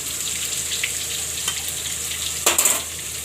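Ginger, chillies and asafoetida frying in hot oil for a Gujarati sing bhajiya shaak, a continuous sizzle with a sudden louder crackling burst as ingredients hit the oil, plus light stirring.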